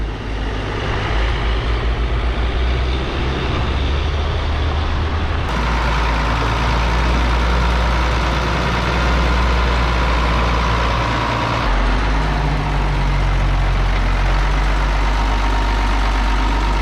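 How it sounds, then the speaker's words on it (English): A farm tractor's engine idles steadily, a deep continuous low rumble that runs unbroken throughout, loud and close, with no talking over it. "What a tractor."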